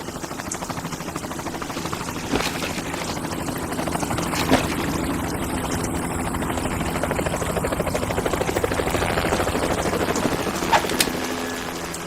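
A video game helicopter's steady whirring rotor drone fills the scene continuously, loud and close, with a few sharp cracks like distant gunfire.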